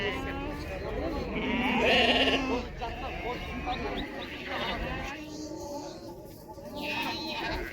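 At a livestock market, lambs and sheep bleat repeatedly, loud and close, with several overlapping calls while people talk throughout.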